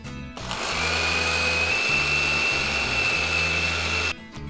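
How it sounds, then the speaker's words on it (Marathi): A kitchen mixer grinding roasted poha into powder whirs loudly and steadily for about four seconds, starting and stopping abruptly, with its motor hum up close. "हे पोहे जे आपण भाजून घेतलेले आहेत हे मिक्सरच्या भांड्यामध्ये काढून दळून घ्यायचे"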